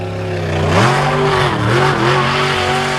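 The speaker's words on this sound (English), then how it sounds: "It's a very awkward car to drive with the big bucket tyres and a Chevrolet 350 series engine developing between 700 and 900 brake horsepower." A hill-climb car with a nitro-fed Chevrolet 350 V8 making 700 to 900 horsepower revs loudly and continuously, its deep engine note climbing, dipping and rising again close by.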